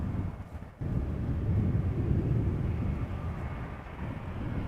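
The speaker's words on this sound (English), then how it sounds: "A320 from Austrian in the background, coming after the MNG." An Austrian Airlines Airbus A320 arriving at Amsterdam Schiphol Airport, a broad low jet rumble that holds steady and distant in the background, roughened by wind buffeting the microphone.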